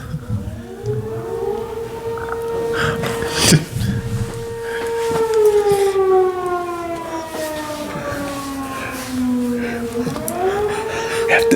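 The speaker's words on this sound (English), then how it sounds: "They test that fire alarm in our town every Monday night at 7 o'clock." A town fire alarm siren on its weekly Monday evening test wails steadily with rising and falling tones, loud and sustained, with a few faint background noises.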